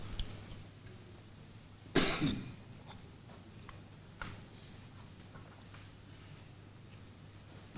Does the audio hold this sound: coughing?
yes